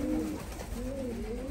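Arab pigeons coo softly nearby in a low, rolling call, repeated twice over a steady background hum.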